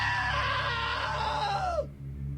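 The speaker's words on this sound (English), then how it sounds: "Now that was a great scream." A loud, sustained scream in the video game What Remains of Edith Finch, one long wailing cry that slides downward and cuts off abruptly, leaving a low background hum.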